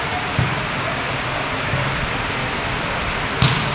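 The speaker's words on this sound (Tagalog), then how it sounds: "Kusog pa ang ulan." Heavy rain pours down steadily outside a gymnasium in Poblacion, San Jose, Negros Oriental, a dense continuous roar with a couple of brief louder splashes or knocks.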